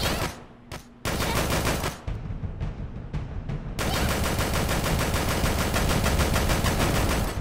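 Rapid, loud gunfire in the Dead or School video game, dense bursts of automatic shots filling the whole stretch with only brief gaps, no talk.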